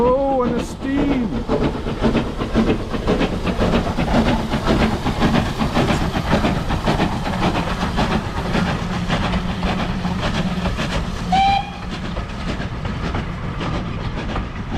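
An old steam train with vintage carriages rumbles past near a station, its steady clattering roar and hiss filling the scene, with a brief whistle-like tone near the end.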